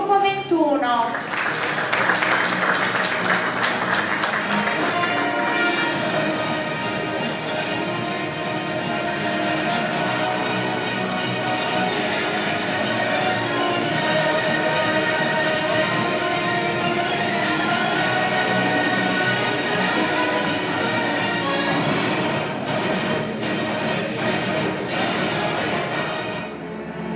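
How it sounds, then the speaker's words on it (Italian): An audience applauds a graduating group at a diploma ceremony. Sustained clapping fills the hall as a steady, even wash, with a voice speaking over it and music underneath. "Ancora un applauso per il gruppo 21"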